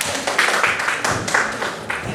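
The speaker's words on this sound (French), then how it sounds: "vous pouvez applaudir Anne, qui a bien participé au jeu" An audience at a magic show claps briefly for a participant after a game, a short patter of scattered applause.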